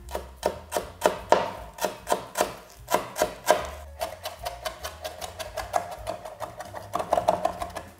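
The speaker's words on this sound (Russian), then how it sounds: "Мелко нарезаем." A knife finely chops parsley on a cutting board in a steady run of crisp, quick taps that speed up toward the end, close and clear with no talking.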